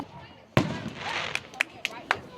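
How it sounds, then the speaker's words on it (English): Fireworks exploding nearby at a Fourth of July celebration: one loud sharp bang, then a crackling fizz and several smaller pops spaced irregularly, with a person heard talking. "That's the other people doing it. Fireworks."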